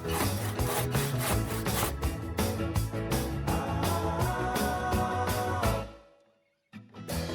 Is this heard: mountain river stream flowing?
no